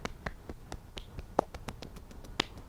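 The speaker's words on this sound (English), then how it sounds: "if your hands get cold, you can do this kind of thing, lightly clapping" Someone claps their hands lightly to warm them, giving a quick, fairly regular run of soft, sharp taps. A few of the claps ring brighter than the rest, and the sound is heard close with no talking.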